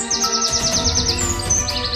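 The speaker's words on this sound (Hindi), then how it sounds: "तोता उड़कर भाग जाता है" A cartoon parrot chirps in a quick run of bright, repeated tweets as it flies off, loud and close over a soft musical bed, with a second burst of chirping near the end.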